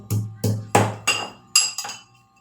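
Garlic cloves coarsely crushed in a mortar for a Gujarati guvar (cluster bean) and potato curry: five or six sharp, close pounding thuds with a clinking ring, evenly spaced and fading toward the end.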